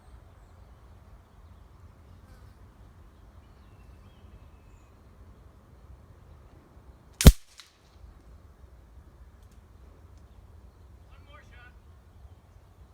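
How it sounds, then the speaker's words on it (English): A single sharp shot from a Huben K1 Gen5 .25 caliber bullpup air rifle cracks out once midway, loud and abrupt, over a low steady outdoor background hum. "He's gonna do one more test shot here real quick, guys."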